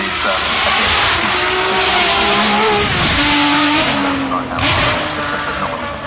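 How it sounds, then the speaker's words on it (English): A Ferrari 599 XX track car at the 2018 Goodwood Festival of Speed makes a loud, close engine roar that revs up and down throughout, with brief tyre squeal. "Yeah, 599 XX, which is part of Ferrari's XX program run for customers."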